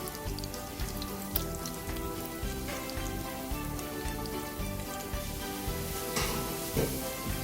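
Onions sizzle steadily in hot oil for egusi, a continuous crackling fry with small pops, close and alone.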